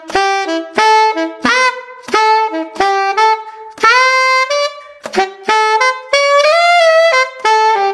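A saxophone plays a Fortnite theme at a slow practice tempo. Its phrases are clear, detached and sometimes sliding, played up close with short pauses between them and no voices.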